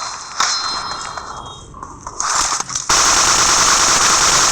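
Rapid gunfire in a team deathmatch video game, a dense crackling burst that thickens and grows louder toward the end, with no talk over it.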